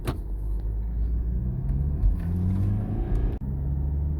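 A BMW 3 Series F30 318d diesel car is driven, its engine and road noise forming a steady low rumble from inside the cabin, with a brief drop near the end.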